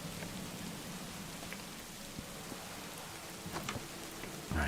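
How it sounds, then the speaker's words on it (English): Steady, dense rain hisses through a Minecraft thunderstorm, an even wash of drops with a few sharper patters and a louder burst at the end; no one speaks. "Lots of rain, though."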